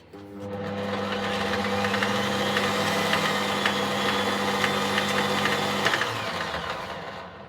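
A Parkside 600-watt brushed lathe motor spins up and runs steadily with a rough, buzzing hum and a constant mechanical drone, loud and close, before winding down near the end.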